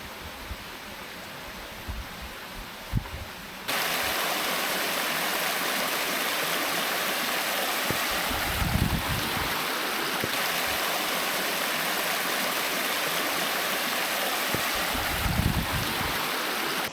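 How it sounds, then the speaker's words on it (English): A waterfall in the Philippines roars as a steady broadband rush of falling water, heard close and loud, jumping louder a few seconds in, with occasional low thumps and no talk. "Let's go and explore this waterfall."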